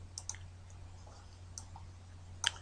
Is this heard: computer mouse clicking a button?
yes